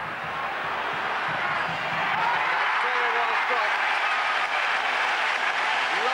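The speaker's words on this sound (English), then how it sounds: "it brings applause from the Danish bench" Stadium crowd at a Denmark versus England football match, with applause from the Danish bench, gives steady roaring applause and cheering that swells and holds, a commentator's voice running over it.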